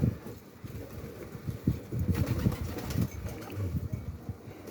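Van arkatepe pigeons at feeding time, with soft cooing and fluttering mixed with pecking and scattered grain sounds, close and continuous with no voices.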